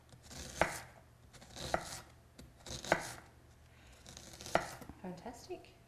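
A chef's knife dices raw onion on a cutting board in slow, separate strokes, about four or five crisp chops a second or so apart, close and fairly clear over a quiet room.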